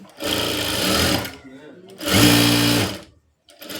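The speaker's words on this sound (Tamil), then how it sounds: "அப்படி வச்சுட்டு ஒரு தையல் போட்டுக்குங்க" A sewing machine stitches the back of a blouse in two close, loud, steady runs with a short gap between them, followed by the start of a third.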